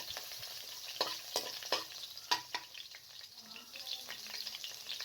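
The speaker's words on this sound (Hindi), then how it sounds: "आपने 3 टेबलस्पून कुकिंग ऑयल शामिल करना है और 3 से 4 लहसुन की जवें पीस कर शामिल कर दें" Garlic fries in cooking oil over medium flame, sizzling faintly with a soft crackling hiss and a few louder pops and stirring scrapes, heard close and quiet.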